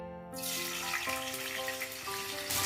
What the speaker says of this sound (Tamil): பாருங்க தவுக்கான் பொரிச்சாச்சு.